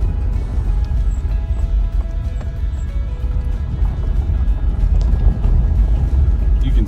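Car driving slowly along a camp road, with a loud, steady low rumble of engine and tyres on the road surface, close and continuous.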